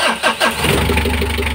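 A car engine cranks briefly and catches, then settles into a steady low idle, close and loud, during an alternator and battery-indicator check.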